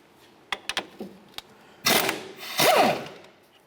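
An 18mm nut coming off a strut bolt on a 2005-2010 Chevy Cobalt front strut assembly: a few sharp metallic clicks and taps, then two bursts of loud whirring tool noise, close up.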